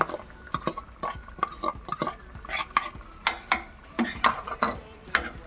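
Mashed peas and potato being stirred into a potato kurma in a metal pot, with repeated close scrapes and clanks of a spoon against the pot at an uneven rhythm over a faint simmer.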